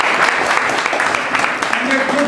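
An audience seated at a memorial event claps together in a brief, dense burst of applause, with some speaking underneath.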